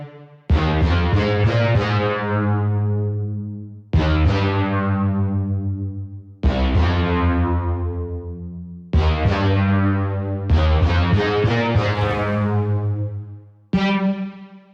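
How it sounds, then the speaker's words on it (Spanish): Retro 1980s-style synth bass made in FL Studio with distortion, a low-pass filter and a long, large reverb, playing sustained distorted notes in repeated phrases, each tail ringing out as it decays. "es una reverberación bastante larga y bastante grande también"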